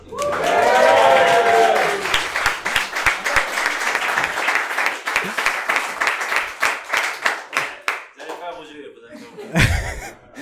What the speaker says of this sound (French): On applaudit Jean-Philippe qui rentre dans le café.